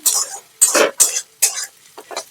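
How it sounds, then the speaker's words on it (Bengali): Chopped onion and green chilli frying in a pan for egg chops, heard as close, loud bursts of sizzle and scraping stir strokes in an uneven rhythm, separated by brief quiet gaps. "লঙ্কা কুচিটা পেঁয়াজের সাথে ভালো করে মিশিয়ে ভাজবো।"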